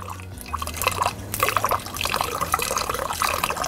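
Basque Txakoli wine streams from a raised bottle into a glass below, a continuous close splashing and gurgling of liquid that grows busier partway through and keeps going to the end.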